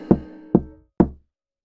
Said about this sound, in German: Er klopfte an die Tür.